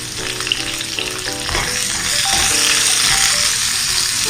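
Oysters with shallots and other aromatics pan frying for a Chinese ginger and scallion oyster casserole, a loud continuous sizzle with clattering stirring and utensil rattles, growing denser and hissier after the first second and a half.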